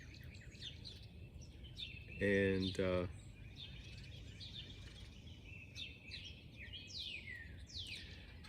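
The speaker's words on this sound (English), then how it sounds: "it might be neat for my audience and myself to hear the birds in the background." Birds chirping outdoors in the background behind a chess game, with faint scattered tweets and calls throughout, one brief spoken word and a short louder buzzy tone partway through.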